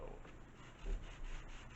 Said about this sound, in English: same sanding strategy as before